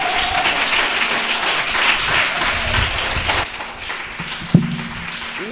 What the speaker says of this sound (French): je vais vous demander d'applaudir celui-là qui a permis